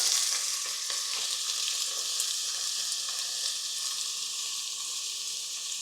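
Food frying in a pan sits alone as a steady hiss with scattered crackles. It is moderately close, and there is no talk.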